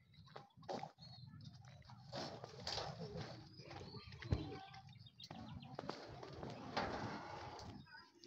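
Racing pigeons at a derby race in Tagudin, Ilocos coo and flutter close by, a steady soft murmur of calls with occasional wing flaps and bumps over a busy background.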